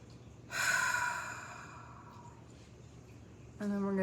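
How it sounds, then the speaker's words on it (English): A slow, deep belly breath, a soft airy inhale that fades out, followed by the start of another audible breath, heard alone in a quiet room. "I'm going to take a deep breath"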